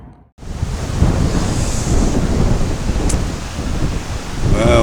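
Strong wind at Lauriston Reservoir roaring and buffeting the microphone continuously after a brief quiet start, with a faint voice near the end.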